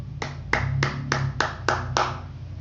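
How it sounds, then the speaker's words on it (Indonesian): Biology students in a classroom clap for their classmates, giving about seven sharp, fairly evenly spaced claps that sound close and a little sparse, over a low steady hum. "beri tepuk tangan dulu kepada teman kalian"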